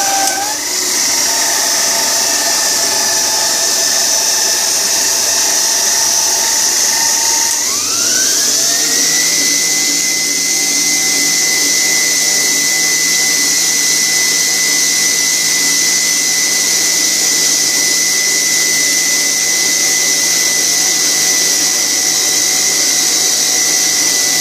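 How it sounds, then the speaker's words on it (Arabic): An electric hand mixer beats eggs and sugar for a layer cake, a loud continuous motor whine that shifts up in pitch partway through and then holds steady. "الطراب الكهربائي العادي ديال اليد"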